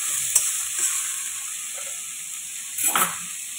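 Cauliflower stalks sauté in a pan with a constant bright hiss of frying oil, punctuated by a few short scraping stirs, one stronger near the end.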